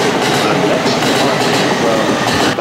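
Continuous rumble and clatter of a JR East commuter train riding the rails through inner Tokyo near Kinshicho, steady and loud from inside the carriage with no talk.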